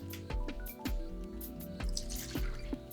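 Water being poured into a cooking machine bowl, heard as a series of distinct drips and liquid splashes at irregular intervals, close and fairly quiet.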